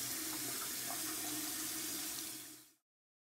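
A beauty blender sponge is wetted under a running tap. A steady, close rush of water flows for nearly three seconds and then cuts off abruptly.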